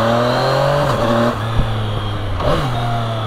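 A Yamaha Tracer 900 GT motorcycle engine drones steadily and revs up and down close by, with the pitch dipping and climbing in short surges.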